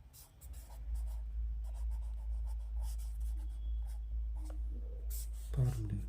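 Pen scratching formulas for a mensuration lesson, soft intermittent strokes and taps over a steady low hum, fairly quiet.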